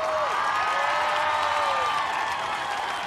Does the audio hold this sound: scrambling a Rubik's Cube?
no